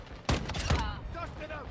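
Gunfire in the mobile shooter Warzone Mobile: two sharp, loud shots about half a second apart, followed by a fading mechanical tail and game sounds.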